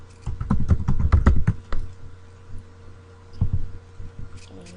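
Typing on a computer keyboard, a quick run of close, crisp key clicks followed by a pause and a few scattered keystrokes.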